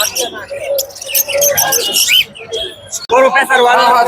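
Caged birds, including munias, chirp and tweet in busy bursts at the Tongi bird market during Shab-e-Barat, up close and loud, with people talking among them.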